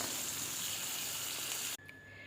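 Maida-flour-coated fish sizzling in hot oil, a steady dense frying hiss that runs close and loud, then cuts off abruptly near the end, leaving a quieter residual crackle.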